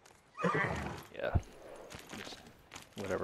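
A horse whinnies loudly with a few hoof clops in a video game, close and brief, with a person talking around it.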